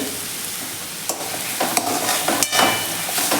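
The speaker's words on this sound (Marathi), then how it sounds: "आता हे व्यवस्थित आपल्याला मिक्स करून घ्यायचं आहे" Ketchup and lemon juice being stirred into a sauce in a pan for manchow soup, a close wet sizzle with scraping spoon strokes and irregular clatters against the pan, no talking.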